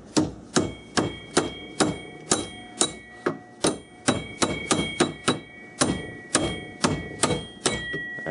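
A hammer tapping on a Southbend lathe oiler, a quick series of ringing metallic strikes at a steady pace, some in fast pairs, close and clear.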